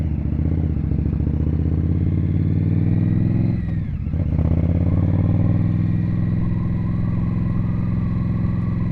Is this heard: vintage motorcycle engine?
yes